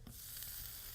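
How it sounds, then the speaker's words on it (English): A black bean quesadilla sizzles in a sprayed frying pan, a brief, faint, steady hiss heard close with no talking over it. "Ooh, hear it sizzle?"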